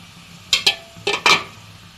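Pre-cooked fish going into a simmering curry, heard as four short clattering splashes and scrapes from a pan, close by, in two quick pairs over a quiet kitchen background.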